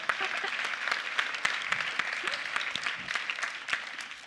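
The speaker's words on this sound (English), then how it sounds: "yeah, let's clap for that." Audience applause fills a keynote hall at Atlas Camp 2018, a dense, steady patter of many hands clapping throughout with no voices over it.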